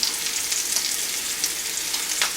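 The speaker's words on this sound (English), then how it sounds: "So just put them in the oil and just move the pan a little bit so all the oil is distributed evenly." Ingredients fry in oil in a pan as meatballs are made for spaghetti, giving a continuous, even sizzle close by with faint crackles.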